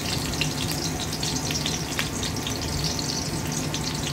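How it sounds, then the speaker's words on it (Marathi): Onion frying in a pan after garlic has been browned, a steady dense sizzle with a few louder crackles and pops, close and continuous throughout with no talk. "मग कांदा टाकायचा. छान भाजला."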